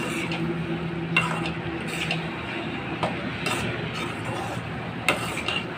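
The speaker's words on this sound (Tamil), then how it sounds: "கிண்டி விட்டுக்கலாம்." Wheat rava upma is stirred in an oiled pan, a close scraping and soft sizzling with occasional sharp knocks of the spoon against the pan, quiet and without speech.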